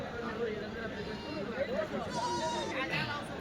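Goats and sheep bleat repeatedly at a busy weekly livestock market in Kadiri, with overlapping calls near and far over a steady crowd murmur and nearby talking voices.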